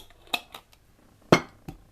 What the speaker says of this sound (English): And pop the lid on.